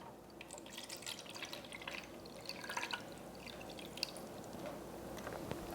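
A cup of water is poured into a CPAP humidifier tank up to its maximum fill line, giving a faint, steady trickle and light dripping, quiet and close, with no talk.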